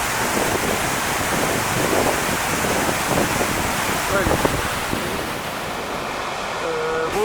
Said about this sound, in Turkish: en büyük şelalelerden biri